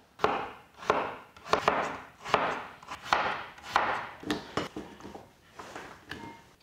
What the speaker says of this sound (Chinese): 土豆直接把它切成厚片。